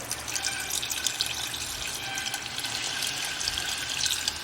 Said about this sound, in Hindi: अब इसके अंदर हम जो है पानी डालेंगे